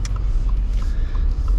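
A car drives through a snowstorm in Michigan, giving a steady, loud, close low rumble of engine and road noise with no talk.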